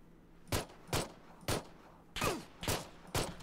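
Six separate gunshots ring out in the battle royale game PUBG, sharp, loud cracks spaced roughly half a second apart, each with a short ringing tail against a quiet background.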